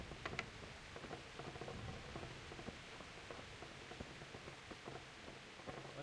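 Steady rain pours down in the medieval open world of Kingdom Come: Deliverance, a dense, even hiss of drops pattering on surfaces with scattered close ticks, continuous and unbroken throughout with no voices.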